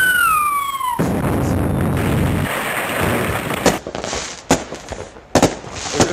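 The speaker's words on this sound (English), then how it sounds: "Here come the rockets." Rockets launched in a video game on a hostile bug planet, a dense rushing roar of fire, then a series of sharp, loud blasts and crackling bursts at irregular intervals.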